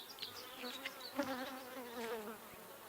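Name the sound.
honey bees buzzing at open hive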